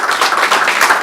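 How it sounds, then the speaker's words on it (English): A brief burst of dense clapping from a crowd at an 80th birthday party, many hands at once, loud and close. "Clap for them. I want you to clap for them."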